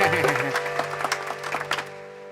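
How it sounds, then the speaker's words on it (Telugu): Scattered applause sounds in a Telugu comedy film scene, with a handful of sharp claps over a held musical tone that fades out near the end. "చప్పట్లు చప్పట్లు చప్పట్లు"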